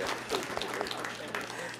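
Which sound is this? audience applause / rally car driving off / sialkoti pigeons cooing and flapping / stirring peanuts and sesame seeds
audience applause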